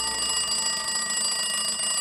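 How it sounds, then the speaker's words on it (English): A cartoon fire alarm rings steadily, a continuous bright electronic ringing tone that stays loud and even throughout with no talking. "The fire alarm!"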